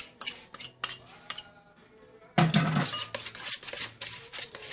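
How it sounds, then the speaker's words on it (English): Chopped ingredients being stirred together with soy, oyster and hoisin sauce for air fryer chicken wings, with a utensil clinking and scraping against a bowl in repeated strokes, growing busier and louder halfway through. "and just mix it up"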